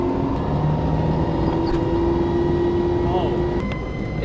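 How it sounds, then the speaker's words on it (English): An AE86 car's very noisy fuel pump whining steadily inside the cabin, a sustained high-pitched tone over a rumbling engine background, with faint talk nearby. "Alright, he's got the noisiest fuel pump ever."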